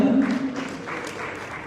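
Applause from an audience at a public talk, steady and moderately loud, holding for the full stretch with some voices mixed in near the start.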